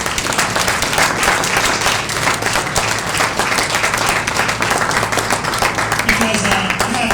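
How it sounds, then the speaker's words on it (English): An audience in Denver gives Brother Jeff a warm round of applause, steady loud clapping that runs the whole stretch without letting up. "Give Brother Jeff another warm round of applause"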